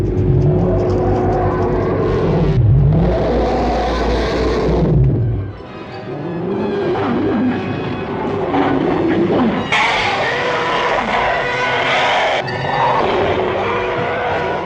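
A Star Wars starfighter effect made from an elephant call mixed with a passing car: a loud, roaring whoosh surges and pitches up and down in several bursts, like a sci-fi fighter craft screaming past, with no voices.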